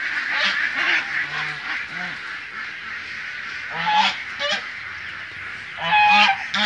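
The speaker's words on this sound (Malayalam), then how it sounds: "അസ്ലമിൻ്റെ താറാവുകളാണ് ഇപ്പോൾ കൂട്ടിൽ നിന്ന് പുറത്തേക്ക് പോയിക്കൊണ്ടിരിക്കുന്നത്." Ducks on a mixed livestock farm leave their coop, giving repeated loud honking quacks in irregular bursts from several birds close by, with no talking.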